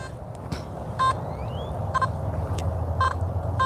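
A metal detector beeps in short pairs at roughly one-second intervals over steady outdoor background noise at a playground slide, with no talking.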